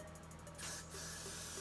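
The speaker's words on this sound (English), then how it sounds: "take some more of my spray" Freeze spray hisses from an aerosol can onto hair being styled into a sleek braided ponytail, a short burst of about a second over a quiet room hum.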